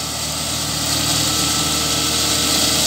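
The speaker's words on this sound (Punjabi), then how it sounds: "ਬੜਾ ਹੈਵੀ ਟਰੈਕਟਰ ਆ" Heavy farm tractor engine running in a field in Greece, a steady loud droning hum with constant vibration, close by and unbroken, with no voices.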